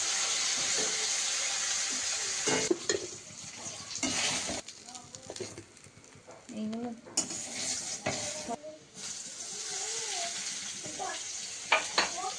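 Vegetables sizzle steadily in hot oil in a pan as they are stirred, with a continuous frying hiss, spoon scrapes and occasional bursts of talking over the top.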